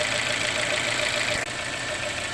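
A Fiat 1.4 liter turbo engine installed in a Dodge Dart runs steadily nearby, a continuous even idle hum with a whirring tone and faint ticking throughout.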